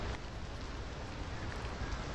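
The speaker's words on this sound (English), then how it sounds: "the freezing cold rain outside" Steady rain falls outside in a video game scene, a continuous dense patter with no break, even and moderately loud, alone without talk.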